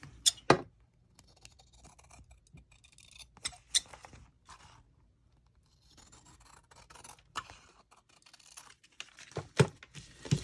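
Scissors trim the edges of a paper CD envelope in a few sharp snips and crisp paper rustles, close and fairly quiet, separated by near-silent gaps, with a denser cluster of cuts at the end.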